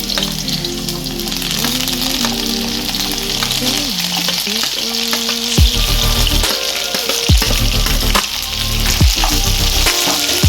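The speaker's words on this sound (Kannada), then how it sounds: "ಈಗೆಲ್ಲ ಈರುಳ್ಳಿ, ಟೊಮೊಟೊ ಎಲ್ಲ ಫ್ರೈ ಮಾಡ್ಕೊಳ್ಳೋಣ ಚೆನ್ನಾಗಿ." Onion and tomato fry in hot oil for a Katla fish curry, a steady loud sizzle with stirring scrapes and clatters throughout, no voices.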